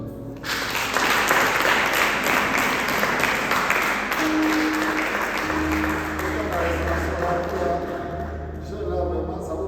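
Sustained applause and cheering from a church congregation, steady and fairly loud for the whole stretch, with a voice speaking over it.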